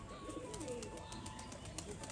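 Soft pigeon coos and fluttering over a steady ambient hum, with faint calls recurring throughout.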